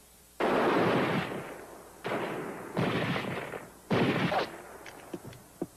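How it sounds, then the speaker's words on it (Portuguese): Gunshots ring out in a 1955 Western film, four loud, booming blasts with long echoing tails, spaced apart and close. "É lutar ou morrer, Hannah. Não faz mal, atiramos, mas precisamos continuar atirando"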